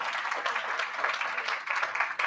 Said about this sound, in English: Let's give another round of applause for James.